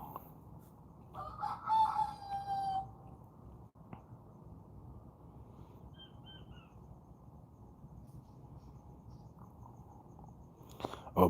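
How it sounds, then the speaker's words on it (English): Loud rooster crowing rings out once near the start over a steady low hum of outdoor background noise, followed by quiet with faint insect chirps. "That thing's loud."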